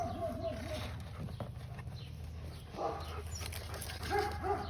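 A dog whimpers and barks softly at a distance in an outdoor yard, with short yips and faint whines coming in bursts under low background noise.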